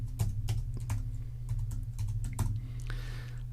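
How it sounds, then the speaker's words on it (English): Fingers tap out a name on a computer keyboard, a quick irregular run of close, light key clicks over a low steady background hum, with no talking. "and I'll type my name"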